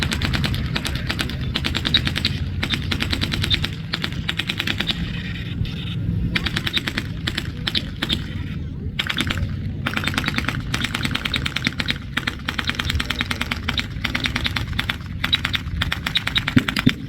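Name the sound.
machine gun fire at military vehicle reenactment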